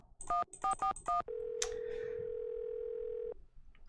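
An in-game telephone in a Nancy Drew mystery sounds four quick electronic beeps, then a long, steady single tone that holds for about two seconds before cutting off, all clean and close.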